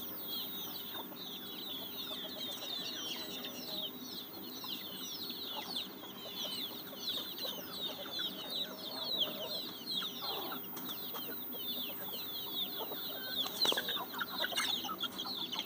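Free-range native country chickens forage in a grove, with scattered soft clucks and calls drifting at moderate distance over a steady outdoor background of birdsong.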